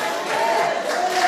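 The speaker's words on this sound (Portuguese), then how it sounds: "Dá um aplauso bem forte para o Senhor e mistura nesse aplauso aí um grito de glória a Deus" A church congregation claps and shouts praise to God together, a dense, steady roar of crowd voices and applause filling the whole moment at close range.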